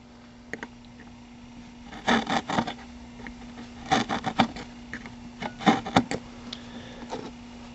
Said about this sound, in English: I'm going to go ahead and scribe it out.